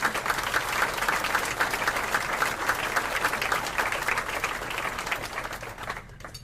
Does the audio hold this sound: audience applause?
yes